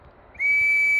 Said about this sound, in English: see how this works, if we can produce a May whistle or a slide whistle